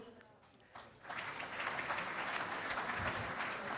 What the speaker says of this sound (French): nous pouvons tous vous applaudir à nouveau